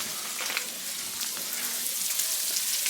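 Bacon and sausage frying in a pan give a steady, close, loud crackling sizzle with small pops throughout and no talking.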